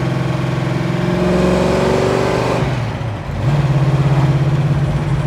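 A 1969 Chevrolet Chevelle convertible engine pulls hard and loud from the cabin, revving up steadily, dropping briefly on a gear change, then climbing again with a throaty drone.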